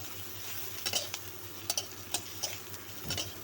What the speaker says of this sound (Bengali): তো পেঁয়াজ ভাজা নিতেছি